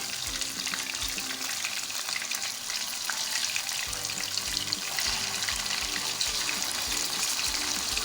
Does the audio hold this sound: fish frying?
yes